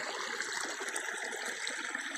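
A village stream flows and trickles softly nearby, a faint steady babbling hiss of water without talk.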